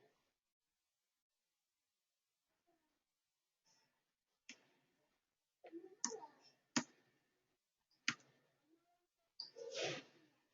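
Quiet, sparse computer mouse clicks during Salesforce admin software work, single and paired sharp taps spaced a second or more apart with near silence between them.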